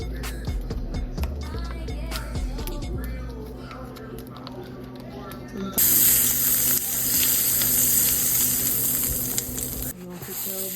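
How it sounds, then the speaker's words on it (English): Oil and butter sizzle in a pan around broccolini, with spitting pops and ticks at first, then a sudden louder hissing surge that holds until it cuts off near the end. "I don't know why that oil jumping around like that"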